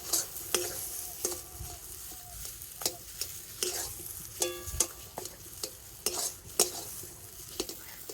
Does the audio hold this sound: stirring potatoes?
yes